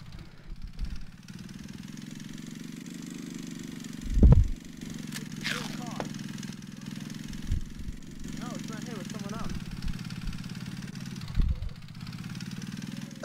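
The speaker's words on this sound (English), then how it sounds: "Oh, a motorcycle." Motorcycle engine in a VR battle royale game, a low steady droning hum that runs throughout, with a player talking over it and a few sharp game noises.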